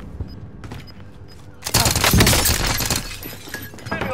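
Video game gunfire erupts in a sudden loud burst of rapid, crackling shots after a quieter stretch with faint beeps, continuing in dense bursts mixed with game effects.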